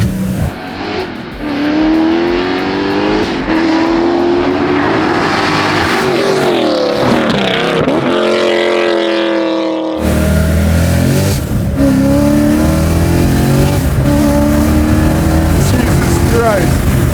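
Up close, a supercharged V8 in a swapped BMW E30 revs loudly, holding steady high notes, then cutting sharply before a fresh burst of rising, rough engine roar.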